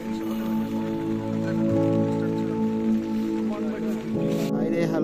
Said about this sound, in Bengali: বাইরে হালকা বৃষ্টি